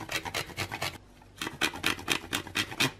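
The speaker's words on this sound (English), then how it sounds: "Now I'm going to use a microplane grater and grate a row or 2 of chocolate over." Chocolate grated over a dessert on a fine microplane grater: a run of short, crisp rasping strokes in a steady rhythm, close and fairly loud, with a brief pause before the scraping resumes.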